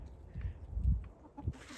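Silver Bielefelder chickens cluck softly in a few short, low bursts, fairly close, with faint background noise and no talking.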